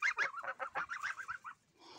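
A goose honks repeatedly in a quick run of nasal calls, close by, followed by a faint rustle.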